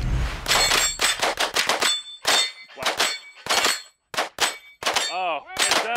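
Pistol shots, including from a Springfield Hellcat, ring off steel targets in a target tree shooting duel: rapid bursts of sharp metallic clangs and dings, several in quick strings with short pauses, one with a wobbling ring.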